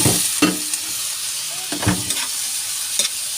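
Pechay stems sizzle and hiss in a hot pan for a Filipino sautéed vegetable dish with misua. A spatula scrapes and stirs them in a few distinct strokes over the steady frying.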